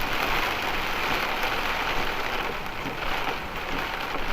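Heavy rain from a rainstorm drums steadily on a motorhome parked on a road shoulder, a dense, even hiss and patter that stays loud and continuous throughout, with no talking.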